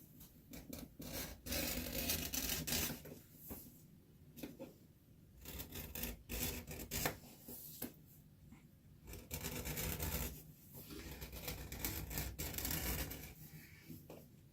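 A hand edge beveler scrapes along an edge in repeated rubbing strokes, close and fairly loud, each pass followed by short pauses, with no voices.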